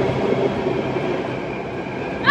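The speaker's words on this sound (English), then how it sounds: "Here comes our train." A New Delhi metro train pulling into the station, a steady rumbling roll with a faint sustained whine, ending in a brief sharp squeal or hiss as it comes to a stop.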